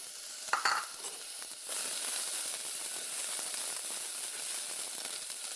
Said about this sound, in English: half a teaspoon of oil, coat the pan, ginger juliennes here, we will put it in